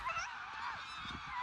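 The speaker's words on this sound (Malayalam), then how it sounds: "താറാവുകൾ പറക്കുമ്പോൾ വലിയ സൗണ്ടാ." A flock of ducks on a farm calls loudly while flying overhead, a dense, continuous chorus of honking quacks with no talk.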